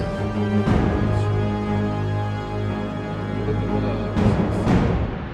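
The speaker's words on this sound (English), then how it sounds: "so you hear a cave-in" A continuous low, heavy cave-in rumble with crumbling noise, swelling in louder bursts near the start and end.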